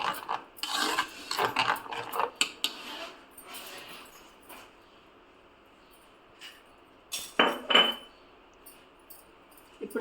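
Spoon scraping and stirring masala with a cup of yogurt in a pot for paneer dum biryani, irregular gritty rasps and clinks in bursts, with quiet pauses between strokes.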